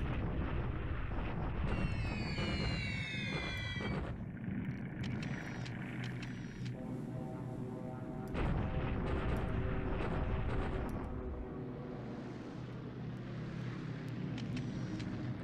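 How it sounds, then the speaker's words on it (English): Bombing raid explosions against Japanese troops in the wargame War in the Pacific rumble as a continuous, dense low roar layered with aircraft drone and scattered blasts, steady and loud, with no talking. "These bombing raids are not super effective."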